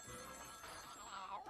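A telephone rings in a Muppet Babies cartoon, a faint brief trill with a voice partly over it.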